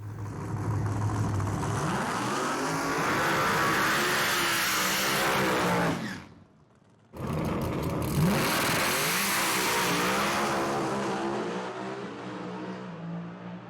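Loud 3000hp Pro Mod Camaro drag cars roar past with screaming, revving engines, then a short silence before another thunderous engine roar builds and fades.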